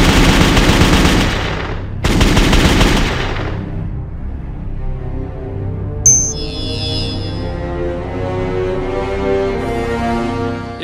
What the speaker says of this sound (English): the sound that it makes hitting the steel silhouette at 100 yards